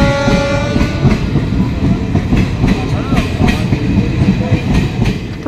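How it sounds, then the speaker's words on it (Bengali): A train rolls past a railway crossing, loud and close, with a steady rumble and rhythmic clickety-clack of wheels that runs the whole time. A faint horn tone can be heard early on. "আবার দেখছি পরে আরও একটা ট্রেন গেল"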